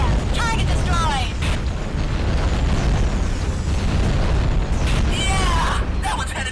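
Heavy underwater explosion of a destroyed target in AquaNox, a deep sustained rumbling boom that fills the whole stretch, with a voice talking over it and sweeping whistling tones at the edges.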